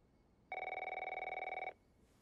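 A telephone rings in the video game The Last of Us Part 1, giving a single electronic trilling ring about a second long in an otherwise quiet scene, with no one talking.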